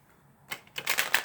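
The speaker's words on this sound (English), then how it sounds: "we're going to do a bit of a shuffle" Plastic playing cards being shuffled, a short rapid burst of crisp riffling clicks following a single soft snap, close and alone.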